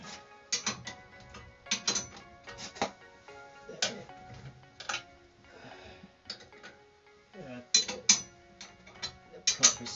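A wrench works the bolts on an Armstrong S25 circulator pump, with a rapid series of metallic ratcheting clicks in short bursts and pauses, close and moderately loud.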